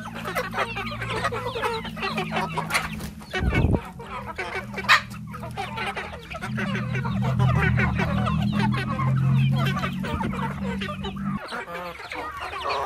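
Chickens cluck and chatter close by while eating cucumber feed, with a flock's overlapping calls and a brief louder squawk partway through.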